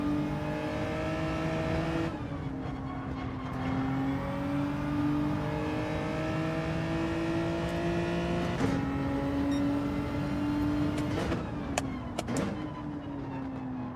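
Racing car engine in Gran Turismo 7 held near a steady high pitch, buzzing against the rev limiter, with brief dips and gear changes around two, nine and eleven seconds, loud and continuous without talk.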